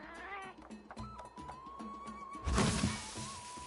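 In Monster Hunter World, a small cat-like companion gives a faint, drawn-out meow amid game music and sound effects, followed by a louder burst of in-game noise.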